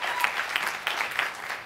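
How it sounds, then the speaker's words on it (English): A panel audience claps for a magazine editor being introduced at a civic discussion event, a brief, dense burst of applause at moderate volume with no talk over it. "Give her a round of applause if you would."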